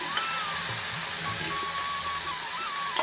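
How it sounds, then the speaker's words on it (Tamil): Continuous sizzling and hissing of paneer frying in a hot pan, steady throughout, with a faint tonal whine in the background. "இப்போ நம்ம எடுத்து வச்சுருக்க பன்னீரை அதோடு சேர்த்துக்குவோம்."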